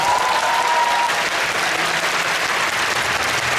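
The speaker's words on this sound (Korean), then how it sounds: "다시 한번 큰 박수" An audience in a concert auditorium gives a big round of applause after an orchestral performance, steady dense clapping throughout with no talk over it.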